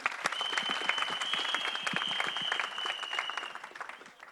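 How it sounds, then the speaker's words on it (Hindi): Steady applause from an audience, many hands clapping together for a few seconds before it fades slightly, with a faint high tone underneath. "Vivan, please, तालियां होनी चाहिए."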